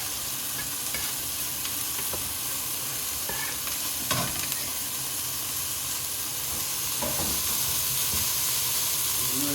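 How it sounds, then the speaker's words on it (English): Steady, bright sizzling of mushrooms frying in hot oil in a pot, with occasional scraping stirs and clinks over the continuous hiss. "sizzling going on there."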